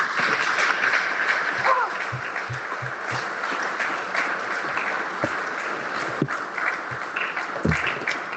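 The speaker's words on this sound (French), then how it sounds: "Applaudissez le Seigneur de gloire." A church congregation applauds steadily throughout, a dense wash of many hands clapping with scattered low thumps and a voice rising briefly over the crowd.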